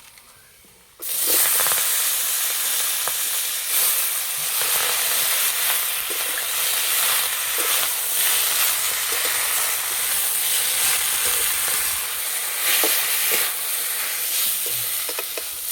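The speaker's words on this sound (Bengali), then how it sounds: "এবার দেবো পুঁই শাক," Malabar spinach (pui shak) dropped into hot oil bursts into a loud, sustained sizzle after a quiet second, crackling steadily with occasional stirring clicks throughout.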